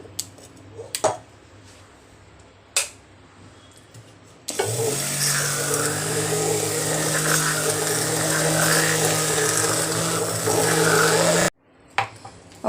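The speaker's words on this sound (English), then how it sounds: "now I will be giving this a quick blend with my blender" An electric blender whirs loudly and steadily for about seven seconds as it mixes a homemade sugar face scrub, with a few clicks and knocks before it starts and after it stops.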